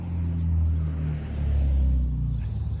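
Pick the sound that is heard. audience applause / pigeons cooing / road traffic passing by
road traffic passing by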